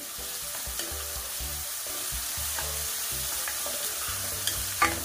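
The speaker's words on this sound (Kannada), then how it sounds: "ಒಂದು ಒಳ್ಳೆ ಕಲರ್ ಬರಲಿ ಅಲ್ಲಿವರೆಗೂ ಹೋಗಿ ಫ್ರೈ ಮಾಡ್ಕೊಳ್ಳಿ" A ground spice paste for fish curry fries in a pan, giving a dense, even sizzle close by with occasional rhythmic scrapes of a ladle stirring it.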